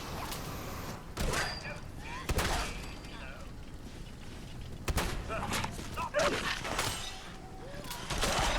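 Gunfire in the video game Fallout 4, several sharp shots and impacts scattered through a busy, noisy mix of game effects, with a voice talking over the action.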